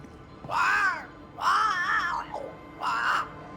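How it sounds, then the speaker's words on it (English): A crow in the video game Banishers: Ghosts of New Eden gives three drawn-out, wavering caws, loud and close, with short pauses between them and no talk over them. "It's Ceridian, by way of the invisible, speaking through the crow"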